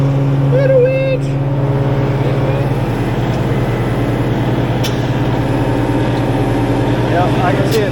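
A winch runs on an Oshkosh M1070 HET 8x8 heavy truck, a steady mechanical hum and whine layered over the deep rumble of the idling diesel engine, close by, with voices talking briefly over it.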